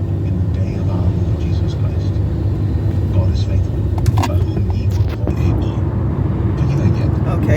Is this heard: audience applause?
no